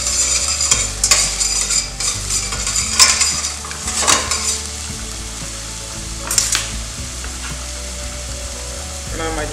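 Onions frying in medium-hot extra virgin olive oil, a loud close sizzle with repeated scraping and clinking of a utensil against the pan as they are stirred.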